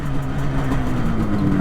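A 1973 Yamaha RD 250 motorcycle engine pulls hard under acceleration, a loud, buzzing, rising drone heard close up and continuous throughout.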